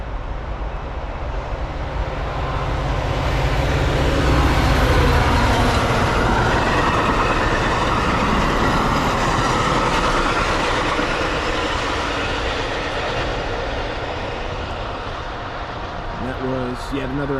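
Amtrak California Zephyr passenger train running hours late toward Chicago on the BNSF line during a snowstorm, swelling into a loud, close rumble with rail clatter that peaks and then slowly fades, with faint squeals near the end.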